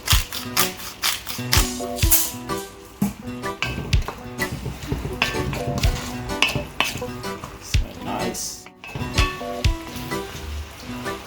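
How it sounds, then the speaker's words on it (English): A spoon stirs and clinks around a pot as Himalayan salt goes into pasta water for summer garden linguine, giving repeated close metallic taps and scrapes in an uneven rhythm over a faint sizzle. "So, yeah, stir it around"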